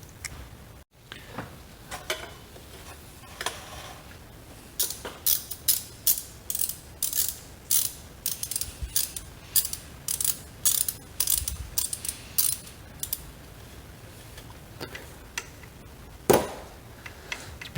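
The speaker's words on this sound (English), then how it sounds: "that gives you room to get your ratchet on. And you can go ahead and loosen both of those." A hand ratchet clicks rapidly in short bursts while loosening thermostat housing bolts on a VW Golf Mk4 TDI ALH engine, close and crisp with brief pauses between runs.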